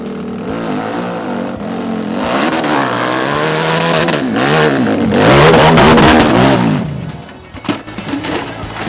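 A special-class hillclimb race car at Andler, Belgium revs hard and accelerates up the course, its engine note rising and swelling loud and close before the pitch drops sharply as it passes, with no talk over it.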